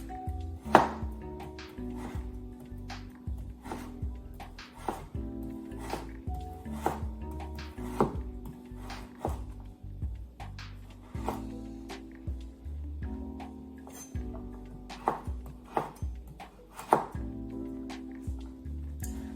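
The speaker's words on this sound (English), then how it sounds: "So first we're going to cut the ginger into small slices." A knife slices fresh ginger on a cutting board, giving a steady run of close, sharp chopping taps over a low background hum.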